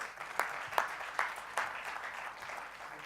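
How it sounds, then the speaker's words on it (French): Scattered audience applause at an entrepreneurship awards event, fairly faint, with a few sharp individual claps standing out at regular intervals over a low murmur. "on va passer quelques minutes avec Xavier, que j'applaudis, et bienvenue sur scène"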